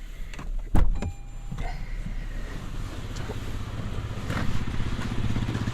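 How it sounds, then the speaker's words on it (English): The power rear window of a 2024 Toyota Tundra SR5 pickup lowers inside the cab, a door-like thump at the start followed by a steady motor whir and rushing air noise for several seconds. "Your rear window does go down all the way"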